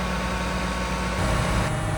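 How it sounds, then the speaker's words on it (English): A tractor pulling a big hay baler out onto the farm rumbles steadily at close range, its heavy diesel engine droning low and even without any talk. "Big baler's coming out, ready for hay."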